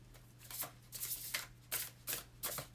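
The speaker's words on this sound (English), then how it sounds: "And I'm just gonna shuffle" Tarot cards riffle and slap together in quick repeated bursts, a crisp papery shuffling close by with a faint hum underneath and no talking.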